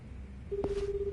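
Telephone dialing from the video game Like a Dragon Gaiden: a brief keypad tone followed by a steady held electronic tone, heard alone at moderate volume.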